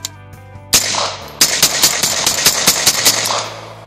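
Rapid string of about ten shots from a 9mm JR Carbine firing American Eagle 147 grain ammunition, loud sharp cracks in quick, slightly uneven succession after a single opening shot.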